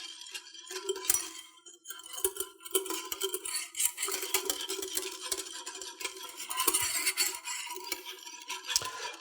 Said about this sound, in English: we're just going to keep adding this a little at a time and whisking constantly